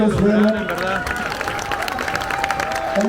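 A crowd applauds and cheers at a huapango gathering in Xilitla, a dense wash of clapping with voices talking and babbling over it for a few seconds.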